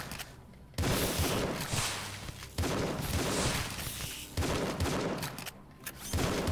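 Rapid multi-shot shotgun fire in the video game Tesla vs Lovecraft, dense bursts of booming blasts in quick succession, loud and close, with brief gaps between volleys and no talking.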